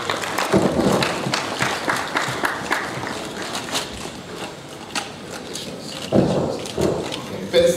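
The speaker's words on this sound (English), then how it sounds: "Can you clap for me?" Audience clapping in a conference hall at a university graduation ceremony in Yaounde, Cameroon, a steady mid-distance patter of many hands that swells again near the end, with voices mixed in.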